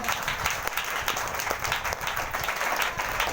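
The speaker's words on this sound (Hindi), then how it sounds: "चलिए जोरदार ताली से प्रभु को धन्यवाद करिए" A church congregation at a Sunday prayer meeting claps loudly together in praise, a dense, steady wash of applause that fills the whole moment without letup.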